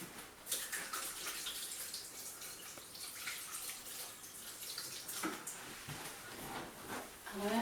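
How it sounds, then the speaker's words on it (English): Hands washed under a running kitchen tap, a soft continuous splash of water with small bursts and drips, faint and close, with no talking. "I'm going to wash my hands"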